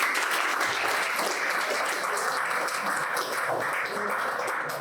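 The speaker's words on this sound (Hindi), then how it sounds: "एक बार और फिर से तालियां हो जाए" A large audience applauds steadily, a dense continuous wash of clapping at a fairly loud level throughout.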